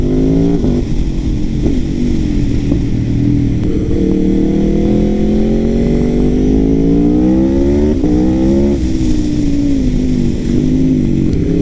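A 217 hp Aprilia RSV4 sport motorcycle accelerates hard and loud, its engine note climbing through rising revs with brief dips at the gear changes, roaring close by with no talking.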